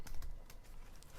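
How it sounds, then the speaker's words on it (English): A tarot card deck being shuffled by hand, a quick close patter of soft riffling clicks and flutters in a short burst with no talking. "This deck has been feeling like it's not shuffling as easily as it has earlier"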